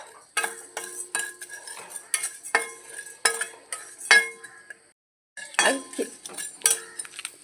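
Urad dal and a pinch of fenugreek roasting in a pan for sambar, stirred with a utensil: repeated sharp metallic clinks and scrapes against the pan in an irregular rhythm, close and fairly clear, with a short pause near the end and no talk.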